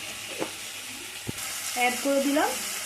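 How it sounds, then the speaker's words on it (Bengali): Spices with turmeric stirred in a pan give a faint sizzle, with a couple of sharp spatula scrapes, while a voice talks quietly over the cooking. "এবারে আমি এটাকে ভালো করে কষিয়ে নেব নেড়ে করে।"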